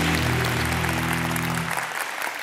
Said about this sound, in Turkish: Gülse Birsel'e de buradan kocaman bir alkış gönderelim.